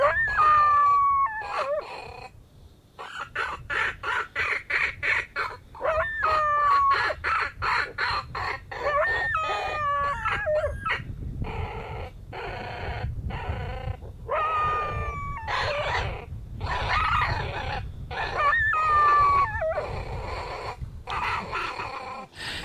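A coyote warning-barks and yips repeatedly in sharp bursts, some rising into short howls, echoing outdoors with irregular rhythm.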